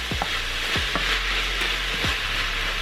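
Zucchini noodles frying in a seasoned pan, a steady loud sizzle with a few dull scrapes as a utensil stirs them, close and continuous with no talking.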